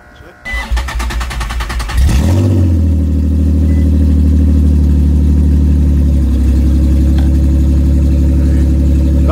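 A Nissan 350Z fitted with a loud Tomei exhaust fires up after a short crank and settles into a deep, droning, steady idle, close and loud, with people talking nearby.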